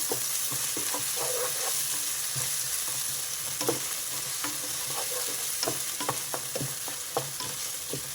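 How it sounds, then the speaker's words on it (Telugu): Ginger garlic paste sizzles steadily in a hot pan for a chicken curry while a spoon scrapes and stirs through it in repeated irregular strokes, close and continuous without talk. "మసాలా చక్కగా వేగాలి అల్లం వెల్లుల్లి చక్కగా వేగిపోయింది"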